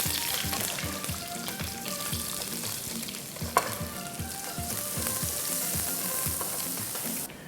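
Shallots and garlic fry with ginger in hot oil, giving a steady, close sizzle with light crackling and a single sharp clink partway through; no talking.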